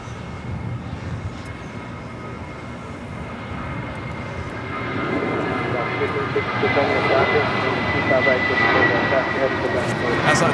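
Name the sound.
airliner departing from runway 25 right at LAX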